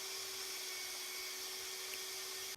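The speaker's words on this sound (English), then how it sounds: "after drilling for a while, cored out those two big cores right there, ended up a nice hole in the concrete, or in the sandstone" A core drill bores steadily into sandstone, giving a continuous whining hum with a constant pitch and a gritty grinding texture that holds evenly for the whole stretch, with no voices.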